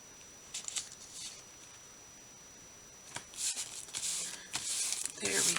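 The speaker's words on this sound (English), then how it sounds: "I'll snip it with scissors." Scissors snipping paper during an envelope papercraft journaling session, a few crisp close cuts and rustles clustered in bursts after a quiet stretch, with paper handling between.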